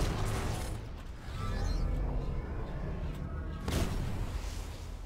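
Buildings being smashed apart in Fortnite Battle Royale during the Infinity Gauntlet mode. Dense crunching and rumbling destruction noise with creaks and a sharp burst near the end.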